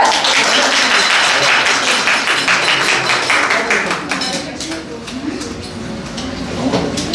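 A crowd applauds in a dense, loud burst that thins out after a few seconds, with voices mixed in.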